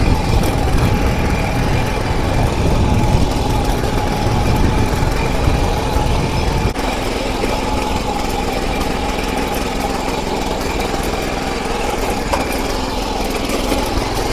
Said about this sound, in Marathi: आता रोटावेटर कशा प्रकारे काम करायचं ते मी तुम्हाला करून दाखवतो.